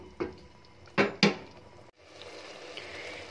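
A few metallic clatters of a lid set over a pot of minced beef and peas, three sharp knocks in quick succession, then a quiet kitchen hiss with no voices.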